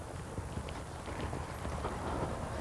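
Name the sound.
Tennessee Walking Horse hoofbeats while walking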